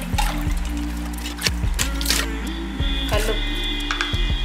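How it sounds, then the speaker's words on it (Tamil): Water pours into a pot of rice set to cook for chicken biryani, a continuous trickling flow interrupted by several sharp knocks and clinks of the pot. "அரிசியை வேக வச்சுக்கலாம். தண்ணி ஊற்றி பூ போட்டுக்கலாம்."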